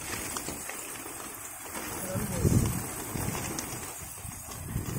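Pigeons at a rooftop loft during a pigeon-fighting contest coo and flap nearby, with a brief louder burst of wing and bird noise midway over a steady outdoor background and a voice in the mix.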